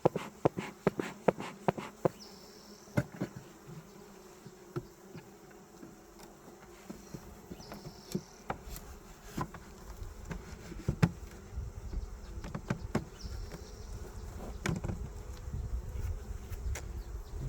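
Honey bees buzz softly around an open hive, a thin, steady drone broken by scattered clicks and knocks of hive frames being handled nearby, with no talk.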